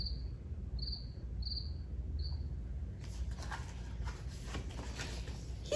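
A cricket chirps in four short, bright pulses over a low background hum, then stops as a scratchy, shuffling rustle takes over.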